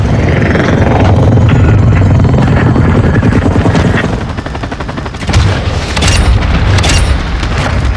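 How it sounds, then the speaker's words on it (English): In Modern Warfare combat, a chopper gunner helicopter roars loudly and continuously, with heavy gunfire bursts and booms layered over the rotor noise. "Chopper gunner is standing by."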